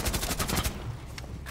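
Rapid automatic gunfire in the Rainbow Six Siege video game, a tight burst of close, loud shots followed by a few scattered fainter cracks.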